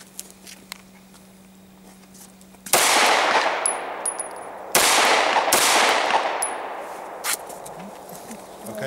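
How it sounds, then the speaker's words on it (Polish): Rifle gunshots ring out in three loud, close blasts, each followed by a long echoing decay, with a few faint metallic clicks between them. "Można strzelać."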